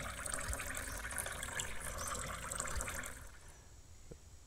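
Water poured into a car in the Poly Roam survival driving game, a steady faint gurgling pour for about three seconds that then stops, leaving quiet background.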